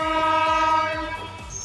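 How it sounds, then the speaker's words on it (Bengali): An express train on the Khurda to Kharagpur route pulling into Bhubaneswar station, its horn blaring loud and sustained over the low rumble of the carriages. "তো দেখো ভুবনেশ্বর ট্রেন ঢুকছে এখন।"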